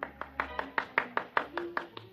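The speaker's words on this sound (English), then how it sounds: "there was a smattering of applause like a matinee just before they closed the show" A sparse smattering of applause from a golf gallery comes through as about ten distinct handclaps in a steady, even rhythm, moderately close, over a faint low hum.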